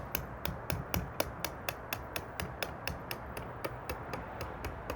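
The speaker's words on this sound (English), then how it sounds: "I'm going to hammer it" Steady, evenly spaced light taps repeat about four times a second over a low background rumble, small hammer strikes into a bonsai pot.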